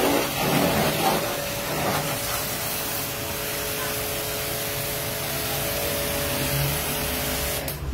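A 400-bar high-pressure water washer sprays with a continuous loud hissing rush and a faint steady motor tone, running unbroken for the whole stretch, close by.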